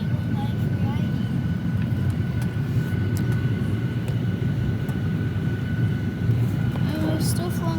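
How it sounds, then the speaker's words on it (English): Steady low engine roar fills an economy cabin aboard a Qantas Boeing 737-800 in flight between Townsville and Brisbane, a continuous broadband drone with a faint tonal hum and no pauses. "we're still flying on one of the most dangerous airplanes, the 737"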